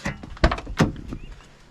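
A car door on a neglected, long-abandoned Volvo 245 is opened, giving a couple of close, solid latch clunks and thumps in quick succession.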